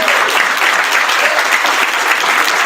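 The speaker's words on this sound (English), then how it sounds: "Let's clap again. You cannot clap enough." Loud, dense audience applause at a motivational talk, continuous and even from start to finish.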